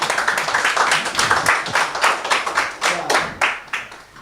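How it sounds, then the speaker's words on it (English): Conference audience clapping in a scattered, uneven rhythm, individual hand claps standing out at moderate volume and thinning toward the end. "let's give him a round of applause."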